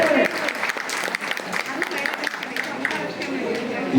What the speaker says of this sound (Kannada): ಅಮ್ಮನಿಗೆ ಜೋರದ ಚಪ್ಪಾಳೆಯನ್ನು ಕೊಡಿ. ಜೋರದ ಚಪ್ಪಾಳೆ.